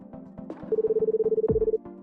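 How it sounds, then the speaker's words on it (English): A telephone rings during Battlefield Hardline gameplay, a rapid electronic trill that pulses for about a second over a bed of game sound and light knocking. "Ignore the ringing, folks, please."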